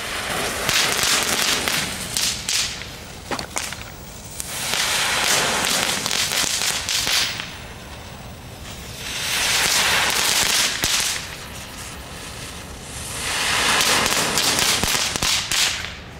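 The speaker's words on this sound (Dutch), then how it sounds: "Lijkt op een vonke luchthuiler." Bursts of fireworks crackling and popping come in three waves, dense sparkling crackle swelling and fading between quieter gaps.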